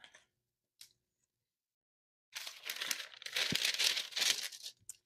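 Vinyl lettering for a metal Christmas ornament peeled off its backing sheet, giving a close, dry crinkling and tearing rustle of about two seconds after a few faint ticks, with no talking.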